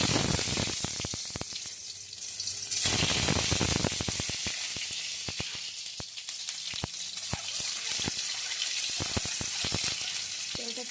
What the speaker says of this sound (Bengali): এবারে সেদ্ধ হওয়া ডিমগুলোকে ভেজে নেব।